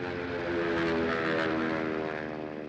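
A First World War propeller airplane flying, its engine giving a loud, continuous droning buzz that swells slightly as it passes close by.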